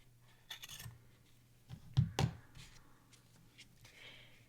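Scissors trim excess fabric from a no-sew quilted baseball ornament, making a few faint, close snips and crisp clicks. The loudest cuts come in a quick pair amid quiet handling sounds.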